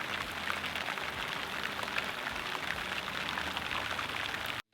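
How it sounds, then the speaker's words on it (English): Heavy rain falls steadily outside a garage, a dense, even hiss with pattering drops, continuous and fairly close, with no voices. "it's raining again"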